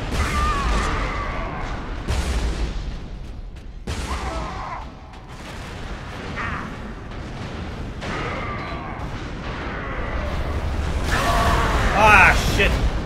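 Heavy weapon blasts and gunfire crash through a Warhammer 40,000: Space Marine multiplayer battle, with a plasma cannon among several loud bursts spread across the scene while players talk over the noise.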